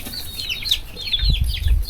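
Chickens cluck and flap close by, short busy calls overlapping with a rustle of wings and low thumps.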